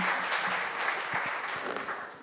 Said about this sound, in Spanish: un aplauso para nuestros expositores y muchas gracias